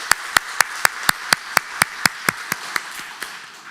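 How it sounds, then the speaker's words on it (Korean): Sharp, evenly spaced claps or taps, about a dozen in a steady beat, moderately loud and close with no talk over them, heard during a Sunday church service. "우리 윤홍수 집사님을 위해서 한번 박수해 주시면 고맙겠습니다."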